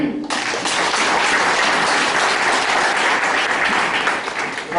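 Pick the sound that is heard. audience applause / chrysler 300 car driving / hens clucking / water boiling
audience applause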